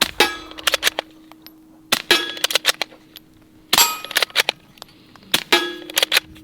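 A suppressed .22 rifle firing subsonic ammunition at a steel plate: several muffled shots spaced a second or two apart, each followed by a sharp metallic clang and a lingering ring, with fainter pings in between.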